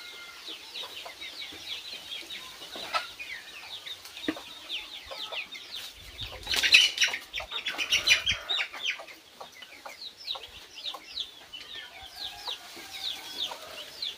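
Free-range hens peck about an open yard, and one sits brooding a clutch of duck eggs. Busy, overlapping clucks come from several birds at close to middle distance, swelling into a louder cluster midway and then settling back into steady chatter.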